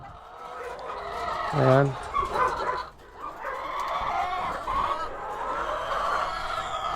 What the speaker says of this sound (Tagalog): Ito na yung fourth batch na mga manok ko.